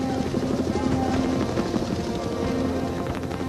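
Military helicopter flying over jungle, a dense continuous rotor roar with steady chopping, loud and close for the whole moment.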